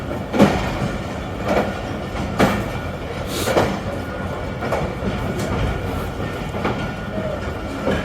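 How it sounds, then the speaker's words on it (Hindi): A Tezgam train leaving Rawalpindi railway station rumbles along with rhythmic clickety-clack of wheels over rail joints, steady and close, with faint voices in the background. "So on time we are leaving Rawalpindi railway station."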